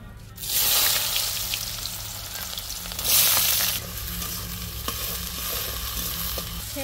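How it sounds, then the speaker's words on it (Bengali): Bitter gourd and potato frying in oil in a pan, a loud, steady sizzle that starts suddenly and swells briefly partway through, with a few stirring clicks. "উচ্ছে ভাজার জন্য তেল দিচ্ছি।"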